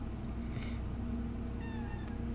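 A cat meows in the video game Recursive Ruin, a brief tonal cry over a steady low electronic hum and game ambience.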